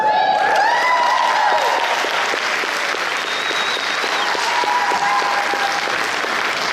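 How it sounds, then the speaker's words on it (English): Audience applause at an NPC bodybuilding championship night show, loud sustained clapping from a crowd with faint whoops and cheers near the start, steady to the end. "Don't hold back on that applause."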